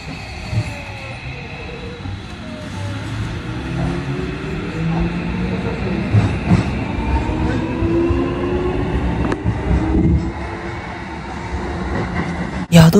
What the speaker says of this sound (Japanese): ここでね、皆さんにモーター音をね、